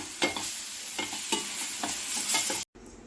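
Spices fry and get stirred in a pan in a dark kitchen during a power cut, a constant sizzle broken by repeated scraping strokes of the spoon, close and fairly loud, then a brief cutoff.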